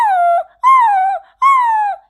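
A small puppy caught in a bush whimpers in three drawn-out, high, wavering cries, each separated by a short pause, close and clear with no other sound.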